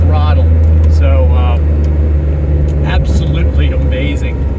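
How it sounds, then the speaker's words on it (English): A Noble M12 GTO 3R sports car's engine rumbles loud and low from behind while driving, a steady drone under intermittent talk from the driver. "You can hear the engine back there."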